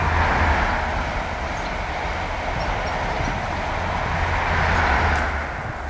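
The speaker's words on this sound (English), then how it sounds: "Oh, here's a train." A train passes nearby outdoors, a steady broad rumble with rushing wheel and rail noise that holds at a fairly loud level throughout and swells slightly at the start and end.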